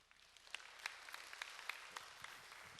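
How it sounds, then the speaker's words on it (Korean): A church conference audience applauds to welcome a pastor to the stage, a faint, distant patter of scattered claps with a few sharper individual hits, heard alone. "박수로 맞아 주십시오"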